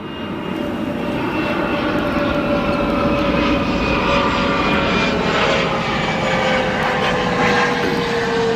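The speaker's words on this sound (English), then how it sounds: "Got a CRJ 200 here." A Bombardier CRJ 200 regional jet roars steadily at O'Hare International Airport, a loud continuous engine rumble with a faint whining tone that holds level for several seconds.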